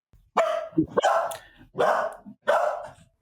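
A dog barks four times in a steady, close series, each bark loud and full with short gaps between them, and no other sounds alongside.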